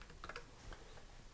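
Several quick keystrokes tap on a computer keyboard during plotting work in Matlab or Octave, a short, faint burst of clicks with no talking.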